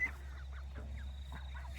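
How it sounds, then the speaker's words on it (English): Young ducklings caged on a farm give soft repeated peeping calls over a steady low hum, faint and close, no talking. "We've got some ducklings growing up here."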